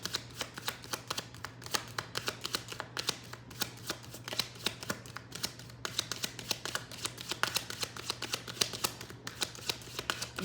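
A deck of tarot cards is shuffled steadily, a close, crisp series of rapid riffling clicks and flutters running continuously over a faint low hum.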